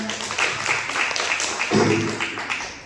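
An audience at a seminar claps in a dense, continuous patter that swells and then gradually fades over a few seconds, with no voice over it.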